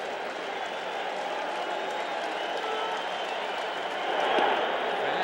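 Dense, sustained roar of a baseball stadium crowd cheering at a 1986 Mets vs Cubs night game, a steady wash of noise that swells slightly near the end.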